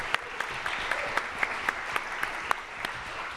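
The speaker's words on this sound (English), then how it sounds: "Please give me a round of applause for Teighe Thorsen." Light, sparse applause from a small audience greets a panel speaker at an AI summit. A few distinct claps land at a fairly even pace, quiet and slightly distant.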